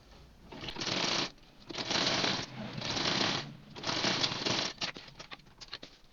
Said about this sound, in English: That's why I'm top stitching to make it that it's lay flat.